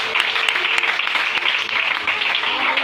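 A church congregation applauds together, a dense, steady wash of clapping that holds at full strength from start to finish, with no speech over it.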